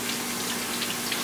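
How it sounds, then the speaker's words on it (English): Cold tap water runs steadily over lettuce being rinsed at a sink, a short continuous splashing gush, close and even. "take it, run it under the cold water"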